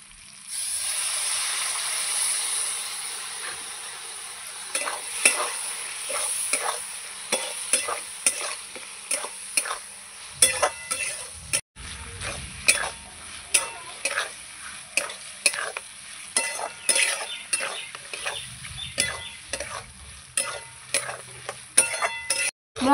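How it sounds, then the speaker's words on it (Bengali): Spice masala fries in a pan for a prawn and mushroom curry, a soft sizzle under repeated scraping strokes of a spoon stirring against the metal, rhythmic and close, with occasional clinks and no speech. "এইভাবে নাড়িয়ে নাড়িয়ে আমি কষিয়ে নেব।"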